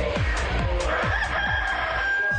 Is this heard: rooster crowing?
yes